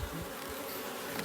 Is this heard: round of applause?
no